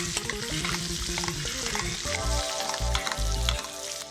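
Butter sizzles and spatters loudly in a hot pan, with crackling bursts and stirring scrapes close up.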